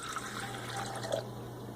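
Warm water pours steadily for flatbread dough, a soft close liquid stream with light splashing and a steady hum beneath, quiet throughout.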